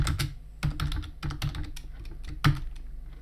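Rapid, uneven keystrokes on a computer keyboard, close and fairly quiet, clicking out a short burst of words with a louder tap near the end, no voices present.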